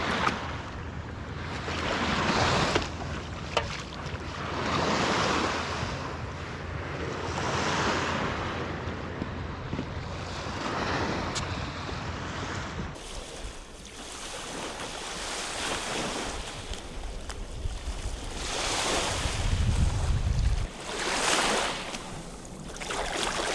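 Ocean surf rolls and crashes continuously at a beach where a river meets the sea, with steady wind buffeting the microphone and a heavier breaking wave near the end; no one speaks.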